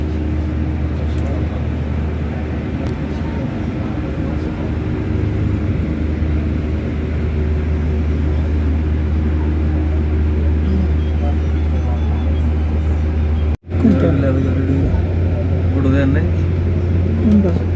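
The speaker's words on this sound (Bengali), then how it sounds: "এখন আমরা মেট্রোর ভিতরে আছি ইয়া বাসের মধ্যে আছি মেট্রো বাসের ভিতরে আছি" A steady low engine rumble and road hum fill the inside of a moving metro bus in Qatar, with people talking over the drone throughout and a brief dropout near the end.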